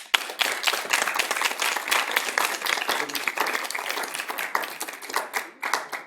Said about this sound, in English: we all gave a round of applause